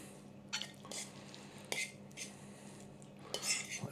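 Corned beef hash being mixed with beans in a pan, heard as soft, wet squishing and intermittent scrapes and clinks of a utensil against the pan, quiet and close, with no talking.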